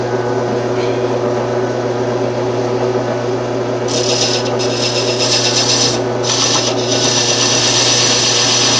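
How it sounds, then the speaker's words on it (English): A wood lathe scraper held against a spinning band saw wheel peels off the old tire, giving a steady rubbing, rasping drone over a constant machine hum, with short brighter scraping bursts in the second half. "I'm going to take my scraper for the wood lathe, and I'm just going to peel as much of this thing off as I can."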